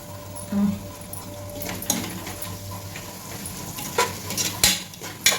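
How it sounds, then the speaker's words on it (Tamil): Vegetables with a little curd sauté in a pan, giving a soft steady sizzle broken by intermittent spatula scrapes and knocks against the metal. "இப்போ இதெல்லாம் கொஞ்சம் நல்லா வதங்கி வரட்டும்"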